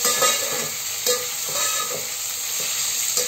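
Onion frying with curry leaves over high heat, a continuous hiss with occasional spatula scrapes and stirs, close and steady, no voices.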